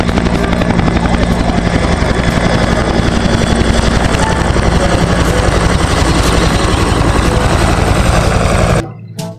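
A loud, steady whirring rotor drone like a toy helicopter runs continuously with a rapid chopping pulse, then cuts off abruptly near the end.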